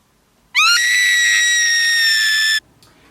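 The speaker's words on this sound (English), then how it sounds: "She screamed in terror" A woman lets out a single sustained, piercing scream of terror, loud and close, lasting about two seconds before cutting off into near silence.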